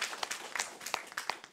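Faint, quick applause from a small audience at a Buddhist Q&A lecture, a patter of scattered claps with no voices over it.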